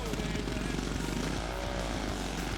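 A ZZR 1100-based drag bike and a TT 500 roar loudly and continuously together at the 2008 Central Nationals drag racing event in New Zealand, with a voice faintly underneath.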